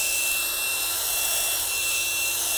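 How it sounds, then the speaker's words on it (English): A power drill bores holes all the way through a tree pot at a slowed speed, giving a steady, loud, unbroken whir and grinding rasp for the whole stretch, close by with no talk. "Drill holes all the way through, like that."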